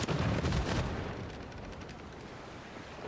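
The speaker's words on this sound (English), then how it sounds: "Fire the cannons!" Cannons firing in the video game Civilization VI, a loud cluster of booming blasts at the start that fades into rumbling, crackling debris, with no talking.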